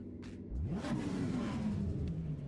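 A BMW E46 M3 engine in a racing video game, idling low and then revving up sharply, its loud rising growl sustained and close throughout with no talking.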